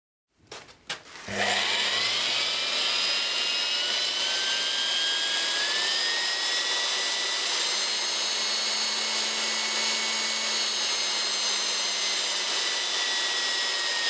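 A drill press with a Morse taper chuck spins up from silence, its motor whine rising in pitch as the speed controller is tested, then holding a steady, loud, continuous hum.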